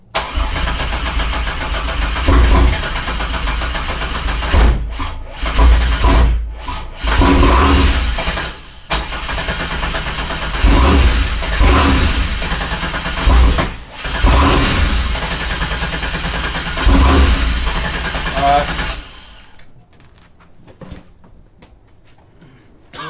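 A supercharged Pontiac Fiero engine under rebuild repeatedly cranks and sputters, turning over in loud, close bursts that catch briefly and falter with short breaks between attempts, then cuts off into near silence at the end.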